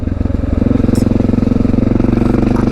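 A Honda XR650L dual-sport motorcycle is being ridden, its single-cylinder engine thumping in a loud, steady, rapid pulse right up close, with a faint rattle over the drone and no speech.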